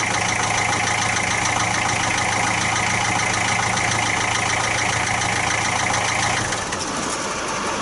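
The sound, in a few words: 1966 Austin London taxi engine restarting and idling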